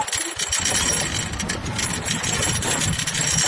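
An auto tractor engine runs steadily, giving a continuous close low rumble with a rough, chugging texture that holds for the whole stretch, with no voices over it.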